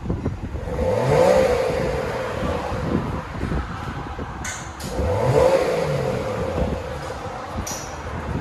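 A 2009 Volvo S80 T6 turbo with a dual exhaust and resonator delete revs twice, each a rising, raspy exhaust surge that falls back to idle, heard up close and outdoors with wind noise and no voices.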